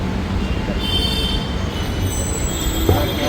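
Metro train at Indiranagar station in Bangalore, a loud continuous rail rumble with thin, high wheel squeals drifting over it throughout.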